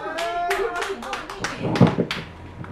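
Audience applause at a Korean singer's stage performance, a short burst of clapping hands mixed with talk and crowd voices.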